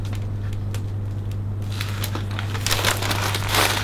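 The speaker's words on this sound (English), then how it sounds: "So making sure that the cellophane sits nicely underneath." Cellophane wrapped around an open flower bouquet crinkles close by, starting faint and growing into busier rustling bursts in the second half, over a steady low hum.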